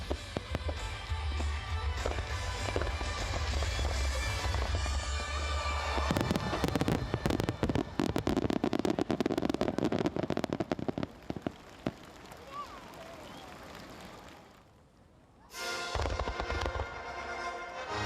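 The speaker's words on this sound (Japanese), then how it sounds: "マジックアワーの空に広がるナイアガラ超大型スターマインです。" Niagara-style super-large Starmine fireworks at the Nagaoka festival at dusk: a dense, continuous crackling roar of bursts and sizzling falls, loud and sustained, easing near the end before surging again.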